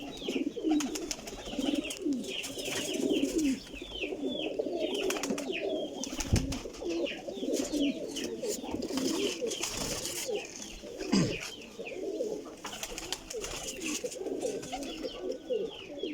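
Teddy pigeons coo in low, throaty, repeating calls close by, overlapping continuously amid rustling and fluttering from a pigeon loft.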